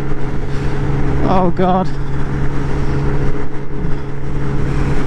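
A Lexmoto SRT 125cc scooter strains along a motorway near its top speed, with a loud, constant engine drone and wind rush. The rider briefly exclaims.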